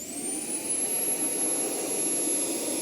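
A VortexHaus Turbo Jet Double Blow V2 car dryer blows air for drying a truck, a steady loud jet-like roar whose high whine climbs in pitch as it spins up, then holds.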